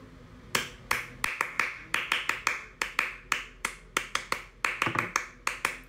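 Scout-style rhythmic hand clapping, sharp close claps in a patterned beat of quick doubles and triples with short pauses, crisp and fairly quiet with no talk over it.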